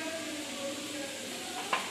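Food frying in mustard oil in a home kitchen pan gives a steady, soft sizzle with light stirring scrapes throughout, plus one brief sharper clink near the end.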